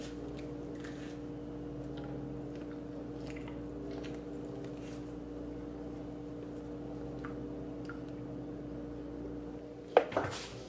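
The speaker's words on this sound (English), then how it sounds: "just munching tons of bananas non-stop" Someone biting into and chewing bananas during a twenty-banana eating challenge, giving soft, scattered bites and mushy chewing over a steady low hum, with a sharper knock near the end.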